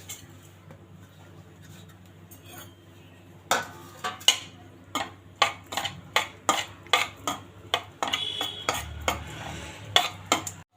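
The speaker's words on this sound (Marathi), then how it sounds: "आता आपण या तुपामध्ये काजू बदाम आणि गोडंबीची पावडर आहे ती भाजून घेऊया" Cashew, almond and charoli powder being roasted in ghee in a kadhai over low to medium flame, with a spoon scraping and clinking against the pan in a steady run of sharp strokes over a faint sizzle.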